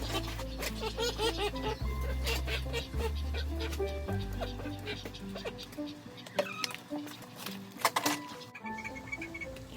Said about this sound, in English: You can hear some happy noises from my chickens here in the background